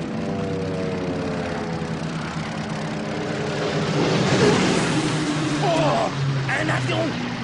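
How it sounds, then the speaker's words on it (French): A propeller aircraft drones overhead, its engine hum growing louder and rougher as it passes, with voices talking over it. "Un avion. C'était des nôtres."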